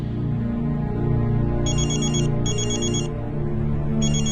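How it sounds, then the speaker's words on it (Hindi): A telephone rings in repeated electronic bursts, three rings separated by short pauses, over a steady low hum. "12 बजे अंतरा के फोन पर रुद्र का कॉल आया।"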